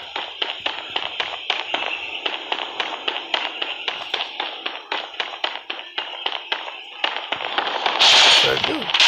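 Rapid gunfire crackles in the Creative Destruction video game, a dense run of sharp, close shots in an uneven rhythm, ending with a louder burst of noise.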